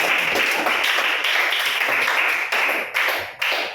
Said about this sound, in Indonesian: kita berikan tepuk tangan untuk Presley